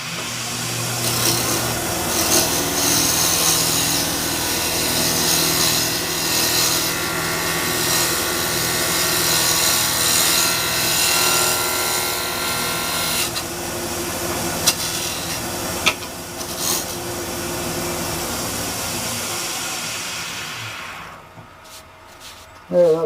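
Woodturning tool cutting a wooden napkin holder spinning on a lathe, a steady, loud scraping and rushing cut that runs continuously, then fades away as the lathe stops near the end.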